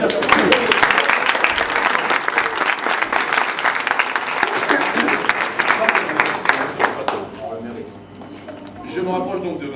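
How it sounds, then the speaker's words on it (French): Studio audience at a TV game show applauding, loud rapid clapping for about seven seconds that then dies away as a host starts talking. "on peut les applaudir."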